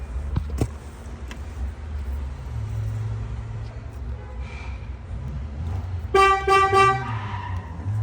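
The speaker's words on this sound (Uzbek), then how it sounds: "Massa bersa signal chaladi." A Chevrolet Cobalt's horn gives a short, loud honk near the end, after a stretch of low engine and workshop background noise.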